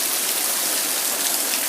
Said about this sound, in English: Look at it come down. It's like a waterfall.